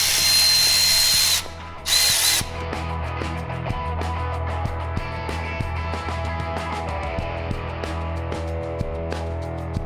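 A power tool whines loudly in a steady burst, cuts out briefly, spins again, then gives way to rattling and clanking as exhaust manifold bolts come off a Chevy Nova, heard up close.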